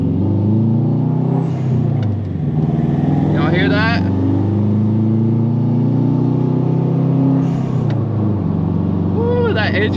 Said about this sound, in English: HKS blow-off valve sounds so good